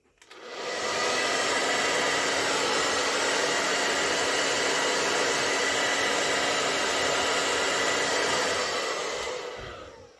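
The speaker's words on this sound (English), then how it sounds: "I'm going to be using a blow dryer and a ping pong ball" A blow dryer switches on and runs with a loud, steady whooshing roar for several seconds, blowing air at a ping pong ball, before cutting off near the end.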